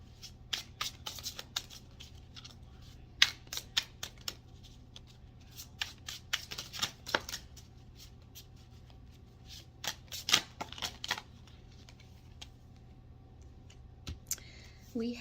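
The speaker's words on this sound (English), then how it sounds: "Okay. Ready to shuffle." Rapid riffling and snapping of tarot cards being shuffled, repeated in bursts with pauses between, close and crisp over a quiet background.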